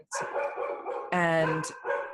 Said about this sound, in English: my dog's going to continue to bark because the water guy's here